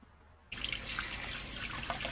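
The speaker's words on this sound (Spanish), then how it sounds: "Lave la semilla con abundante agua, pero lávela muy pero muy bien." Running water from a tap gushes steadily over an avocado seed being washed, starting abruptly after a quiet half second and staying loud and close.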